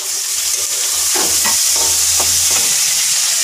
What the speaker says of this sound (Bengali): আমি এখন করছি আলু ভাজা